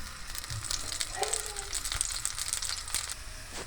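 Corn roti cooking on a hot griddle brushed with ghee, a close crackling sizzle with small pops and light scraping throughout.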